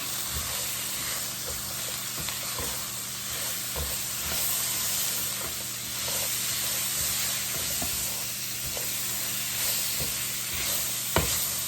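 Rasta pasta with jerk seasoning is stirred in a hot pan, a constant hissing sizzle with scattered scraping clicks and a sharper knock near the end, with no voices.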